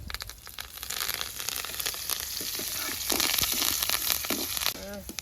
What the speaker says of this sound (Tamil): கடலை பருப்பு உளுத்தம் பருப்பு எல்லாம் நல்லா செவந்து பொறிஞ்சு வந்துட்டு